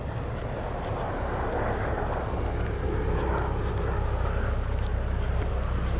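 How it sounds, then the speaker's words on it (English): A constant low engine drone with rumbling roar of a helicopter passing overhead during a walk in Wascana Park, steady throughout with wind noise and no talking. "Oh, helicopter."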